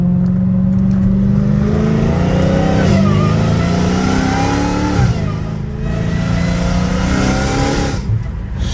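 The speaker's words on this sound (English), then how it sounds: "I only hear the freaking exhaust right now." Dodge Hellcat Redeye exhaust blares on a street, a loud, throaty V8 roar with repeated revs that rise and fall over a steady rumbling idle.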